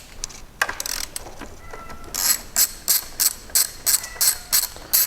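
Quick ratcheting clicks of a wrench working loose 10mm bolts on a 2021 Fiat Panda 4x4 during air filter replacement, first sparse, then a steady rhythmic run of bursts, close and fairly loud.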